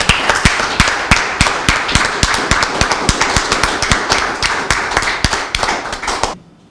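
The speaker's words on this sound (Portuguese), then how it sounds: "Fuerte aplauso!" Rhythmic, steady clapping from an audience at an award ceremony, sharp evenly spaced claps filling the space for several seconds before stopping abruptly.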